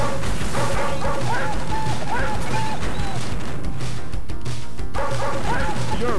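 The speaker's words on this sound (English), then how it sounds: "Man, how many dogs do these guys have?" Dogs chasing a narcotics cop in the N.A.R.C. arcade video game bark and yip loudly in rapid, overlapping bursts, mixed with crashing game effects and shouted voices.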